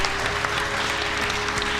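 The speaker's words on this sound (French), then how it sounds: "Applaudissez-la," Audience at a live podcast event breaks into loud, dense applause, a continuous wash of clapping from a sizeable crowd with a steady hum running underneath.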